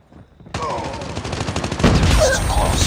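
Rapid gunfire bursts in the Going Dark video game, a loud, close fusillade of shots that keeps going under shouted voices.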